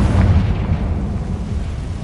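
Confringo spell explosion in a Hogwarts video game, a loud, dense booming blast with a rumbling tail lasting about two seconds.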